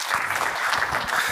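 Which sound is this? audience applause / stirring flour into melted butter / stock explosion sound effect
audience applause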